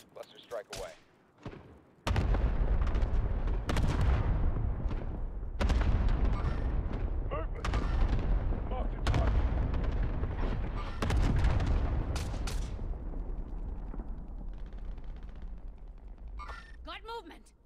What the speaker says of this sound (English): Cluster strike inbound.